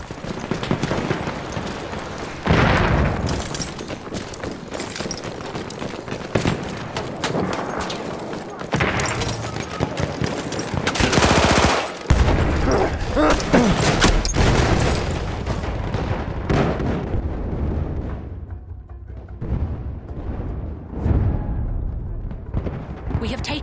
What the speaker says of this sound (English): Grenade lancée.